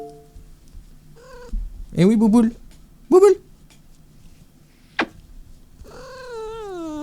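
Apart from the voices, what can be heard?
cat meowing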